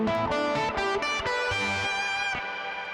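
Heavily distorted electric guitar plays a quick run of chunky power chords, each struck in turn, ending on a sustained ringing chord.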